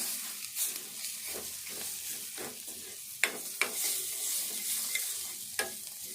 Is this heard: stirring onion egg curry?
yes